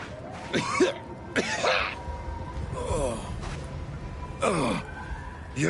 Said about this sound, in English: You ever cough so hard your ankles hurt?